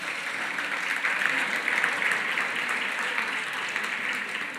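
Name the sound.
audience applause at dinner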